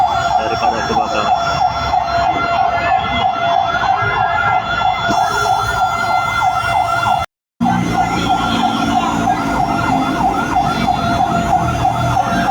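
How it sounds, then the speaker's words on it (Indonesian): Wailing fire truck sirens at a burning petrol station, loud and continuous with a brief cut, over vehicle rumble and crowd noise. "Tiga mobil pemadam kebakaran"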